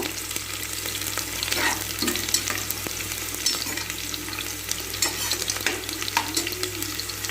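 Onions frying in a pan for mint pulao give off a steady, close sizzle, broken by soft scrapes and knocks of stirring. No one speaks.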